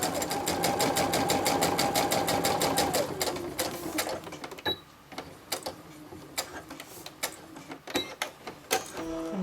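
A sewing machine stitches a tote bag seam at 5/8 inch in a long, steady rhythmic run with reverse stitches to secure the thread, then slows into scattered clicks and taps as it stops.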